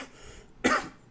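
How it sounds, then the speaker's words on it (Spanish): A single short, sharp cough bursts out close and clear, a brief throaty hack against a quiet room. "disculpen que estoy tosiendo"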